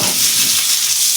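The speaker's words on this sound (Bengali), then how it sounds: "মা এখন আমার জন্য বানাচ্ছে মা মাছের তেল" Fish oil frying in a pan with onion and chili, a loud, dense, steady sizzle that runs without a break and is heard on its own, with no voices.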